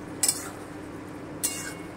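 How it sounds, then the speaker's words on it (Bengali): Small mourola fish cooking in a kadai are stirred, giving two brief, quiet metallic clinks of a spatula against the pan about a second apart over a faint background. "আমি আবারও একটু নেড়ে দিচ্ছি"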